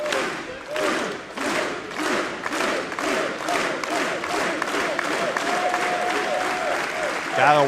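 A wrestling crowd applauds in respect after Drew Galloway's final WCPW match, Cody Rhodes leading them. The clapping is steady and dense, arena-wide, with some shouts mixed in.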